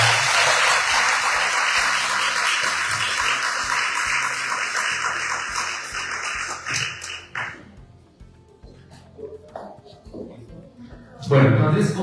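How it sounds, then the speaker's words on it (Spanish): Audience at an academic architecture forum applauding a speaker, loud sustained clapping that tapers off into scattered claps and quiet, with a voice resuming and a brief loud burst at the close. "creo que la doctora Mónica se merece un aplauso"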